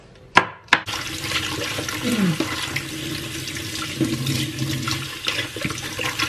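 Vegetables including Baguio beans and potatoes washed under running tap water in a strainer, a couple of sharp knocks followed by a steady close gush and splash of water.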